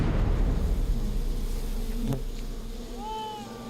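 Live bees swarm and buzz thickly around a man who handles them and holds them against his body, a loud, steady insect drone close by with a brief higher whine near the end.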